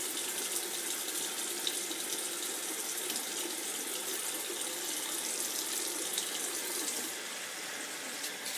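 Hot water runs steadily from a bathroom tap into a sink for washing the face, a constant close hiss and splash that eases slightly near the end, with no talking.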